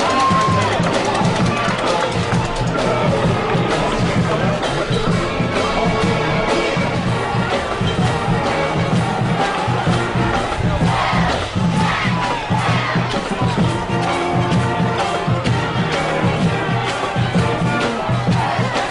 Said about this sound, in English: now the Marian crowd's got a little something to cheer about here